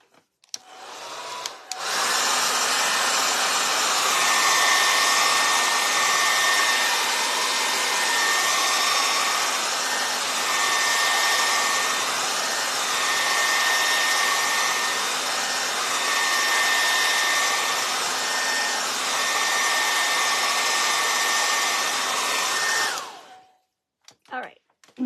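A hair dryer blows steadily on wet acrylic paint on a beginner's fox canvas, a loud, continuous whirring roar that starts abruptly, holds for about twenty seconds, then cuts off.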